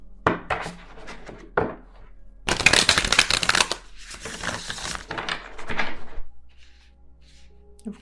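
Tarot cards are shuffled in several bursts of riffling and flicking, close and crisp, with brief pauses between, no talking.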